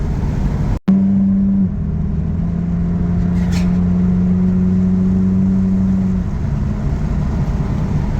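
A 9th gen Honda Civic with its muffler deleted drones steadily while driving, a close, loud, low exhaust tone holding an even pitch after a brief cut at the start, with no talking.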